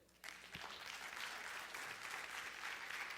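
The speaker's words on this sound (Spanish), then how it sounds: "Un aplauso ahí." Steady applause from an audience begins abruptly and continues evenly throughout, a dense wash of many hands clapping.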